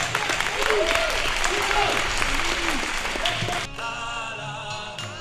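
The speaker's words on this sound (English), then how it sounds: "Give him a round of applause." Audience applause at a prison gathering for a storyteller: loud, dense clapping with cheers and whistles rising over it, then an abrupt drop to quieter room tone with scattered voices.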